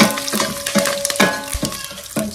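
Green and dried red chillies fry in hot oil for beetroot rasam, with a close sizzle and several quick scraping stirs of a spoon against the pan.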